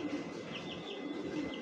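Pigeons or doves cooing and chirping in a chicken coop, with repeated soft coos and higher chirps over a steady, busy background of birds, fairly close and continuous.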